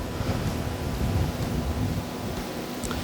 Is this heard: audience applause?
no